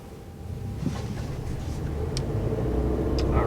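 Engine of a 2020 Mercedes GLC 300 restarting through auto start-stop at a traffic light, a low steady rumble that swells gradually as the vehicle pulls away, smooth and subdued with no voices.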